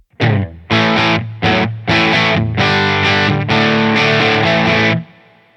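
Electric guitar driven through a Kinky Boost on a Line 6 POD GO, loud and distorted, played as a few short chord stabs and then longer sustained strummed chords that ring out and fade at the end, with no talking.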